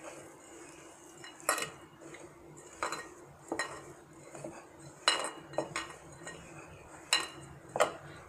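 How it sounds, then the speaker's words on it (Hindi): A spoon scrapes and clinks against a pan while khoya is mixed into a coconut laddu mixture, giving irregular metallic taps every second or so over a soft background hiss. "तो इसमें हम ये जो खोया है इसको मिक्स कर देंगे।"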